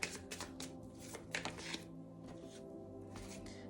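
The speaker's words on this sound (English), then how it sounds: "Shuffling." Tarot cards being shuffled by hand, a run of crisp riffling and slapping bursts in the first two seconds, then quieter handling over a low steady background hum.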